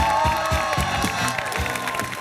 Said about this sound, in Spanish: te dieron un aplauso para los de la OFI